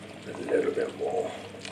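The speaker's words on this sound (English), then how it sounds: "add some water from the kettle" Brief, soft splash of water poured from a kettle into a cooking pot, a short gurgling stream lasting under two seconds.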